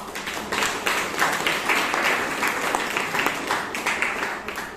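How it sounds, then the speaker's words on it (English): Audience at a Toastmasters club meeting in Bangalore giving a steady round of applause, many hands clapping together at an even level for several seconds, then tapering off slightly at the end. "Let's give a huge round of applause to the evaluator"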